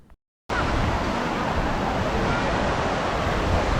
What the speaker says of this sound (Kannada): ಇಲ್ಲಿ ನೀರಿನ ಸೌಂಡ್ ಏನು ಬರ್ತಾ ಇದೆ ನೋಡಿ